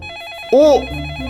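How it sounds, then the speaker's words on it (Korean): A telephone rings in a short, loud burst, a warbling electronic tone that sweeps up and down, set over a musical background bed. "또 1795년에서 전화 걸려왔어요"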